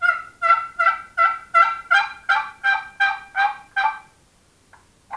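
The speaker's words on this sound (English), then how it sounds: "Now that's a real nice box call. It's handmade." About eleven crisp, rhythmic yelps come from a handmade walnut box call for turkey hunting, played loud and close, followed by a pause and a couple of short faint notes.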